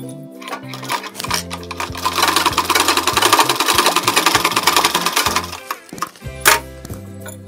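A sewing machine runs steadily as it stitches a second reinforcing line on a blouse, the close, busy mechanical whir rising and holding for several seconds before dropping to brief starts near the end.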